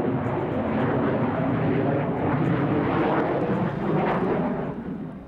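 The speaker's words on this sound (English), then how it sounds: "Watch as Captain Snodgrass shows the wing sweep positioning of the F-14" A Grumman F-14 jet fighter roars through an air show demonstration of its wing sweep, a loud, steady broadband engine rumble that swells near the middle and fades slightly at the end.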